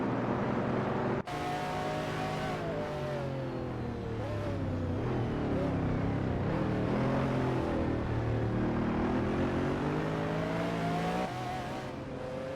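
Race cars at Zolder in a racing video game, with a steady, loud engine drone that rises and falls in pitch as the cars accelerate and shift, continuous from start to end after a brief quiet opening.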